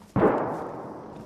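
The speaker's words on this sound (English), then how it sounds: "More interesting gunshots." A single sharp gunshot in the DayZ video game on the Chernarus map, a sudden loud crack followed by a long fading rumble with nothing else around it.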